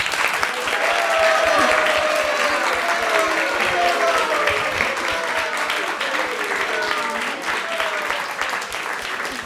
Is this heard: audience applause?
yes